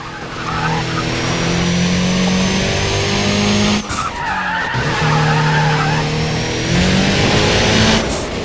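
A race car in Need for Speed ProStreet roars through a track, its engine droning at steady pitch while tires skid and squeal loudly through corners, with a brief break midway.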